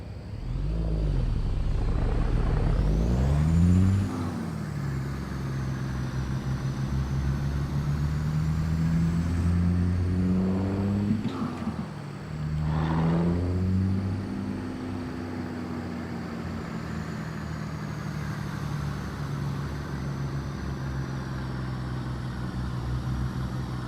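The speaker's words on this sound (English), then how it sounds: "Bedrock says it sounds like a real truck." Truck engine in American Truck Simulator during an online convoy, a loud steady low drone with rising and falling revs and gear shifts, continuous throughout with no talk.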